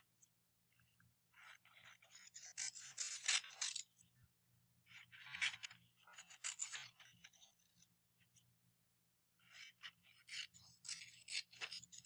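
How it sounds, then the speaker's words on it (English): Scissors snip through strips of black paper in short bursts of cutting and rustling, with pauses between, close and fairly quiet over a low steady hum. "I'm going to cut strips of my black paper."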